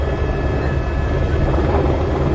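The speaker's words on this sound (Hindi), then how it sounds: "तारापुर मुंगेर जा रहे हैं हम लोग हेलीकॉप्टर से।" Helicopter in flight heading to Tarapur, Munger, with heavy continuous rotor and engine roar heard loud and close from inside the cabin, steady throughout with no talk.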